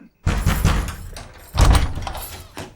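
Someone pounds on a closed door trying to force it open, two heavy, booming blows with rattling after each and a lighter knock at the end.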